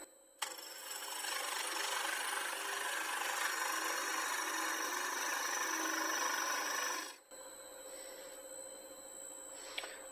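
A gouge cutting wood on a lathe, a steady rough scraping hiss for about seven seconds that stops abruptly, leaving the quieter hum of the spinning lathe.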